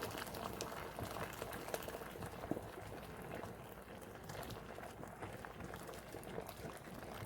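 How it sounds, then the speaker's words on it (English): Water at a steady rolling boil in a canning water bath, a continuous dense bubbling and churning with no pauses. "Because I'm adding boiling water, the water is continuing to boil."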